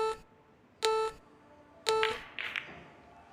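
Shot clock beeps during a professional Premier League Pool match: three sharp, evenly spaced electronic tones, loud and close, followed by a brief rustling thump in a quiet hall.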